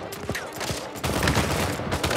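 Gunfire in the video game Uncharted 4, a quick fusillade of several loud shots with sharp cracks and ringing tails, close and dense, alone without talk.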